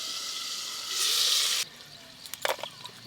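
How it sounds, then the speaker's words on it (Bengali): Potatoes fry in a pan with a steady hiss that swells briefly, then cuts off, followed by a few clattering kitchen knocks and splashes. "এদিকে আলুটা ভাজা হতে থাক।"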